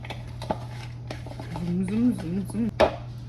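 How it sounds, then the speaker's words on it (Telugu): A knife chops mango on a board for street-style borugulu, a puffed-rice snack, giving a few sparse, crisp taps close by, with a voice talking briefly between them. "మ్యాంగో చాప్ చేసుకొని వేసుకోవాలి."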